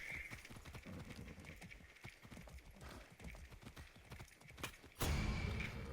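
A horse gallops in a video game with steady clip-clop hoofbeats that run close and continuous, then a louder, heavier burst of sound near the end.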